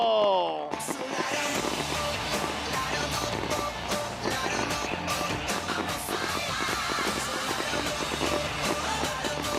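World of Outlaws STP sprint cars racing on a dirt track at the 30th Kings Royal: a dense, continuous roar of engines from a field of cars after a brief sweeping tone, loud and sustained.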